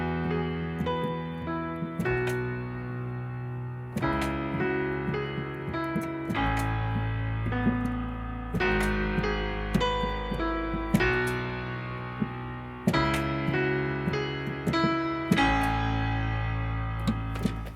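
Piano playing a simplified worship song part with a low octave in the left hand and single notes on top, sustained chords changing every couple of seconds, full and resonant, no speech.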